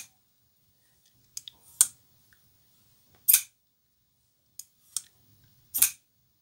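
The blade lock on a CIVIVI Banneret folding knife with black G10 handles snaps with crisp, close clicks, sounding as a few isolated sharp ticks spaced over several seconds in near silence.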